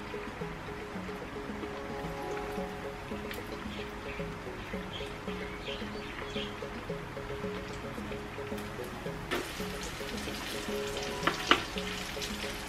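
Tofu french fries frying in hot oil, a soft steady bubbling sizzle with a low hum beneath and a burst of louder crackle near the end.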